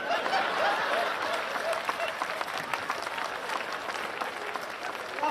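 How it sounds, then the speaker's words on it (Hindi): An audience claps steadily at a live comedy event, a continuous crowd applause with faint chuckles mixed in, fairly close and even throughout. "2-3 लोग ताली बजा रहे हैं"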